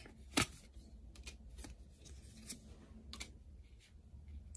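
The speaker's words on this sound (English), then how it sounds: "Let's get a couple more cards to clarify." Tarot cards are shuffled and drawn by hand in a quiet room: soft, intermittent snaps and papery rustles, one sharper flick near the start, with no talk.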